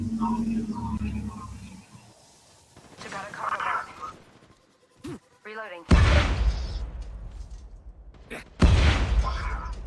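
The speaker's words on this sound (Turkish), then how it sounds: "yerden silah sesleri geliyor ama" Gunfire in the mobile battle royale game Apex Legends Mobile: bursts of shots and booming impacts cut in abruptly among game effects, loud in places, with players talking over much of it.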